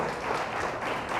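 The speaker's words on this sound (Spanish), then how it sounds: "Dele fuerte el aplauso a Dios." A church congregation applauds during a Spanish-language sermon, a dense, steady wash of many hands clapping together, with no voices over it.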